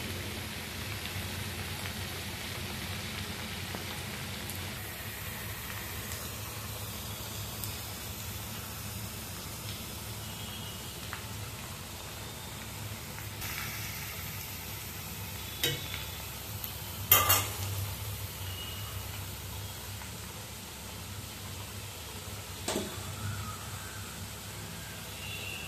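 Mango pieces for an Andhra mango pickle fry in hot oil until crisp, giving a steady, even sizzle that runs throughout, with a few faint stirring scrapes and clinks.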